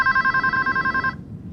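A telephone rings in a music video, a loud, bright bell trilling rapidly and steadily for just over a second before cutting off abruptly, alone with no voices.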